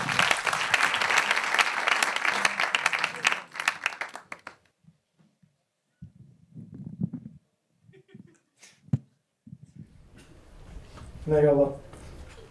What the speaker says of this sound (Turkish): Büyük alkışlarla Burak Ekinci.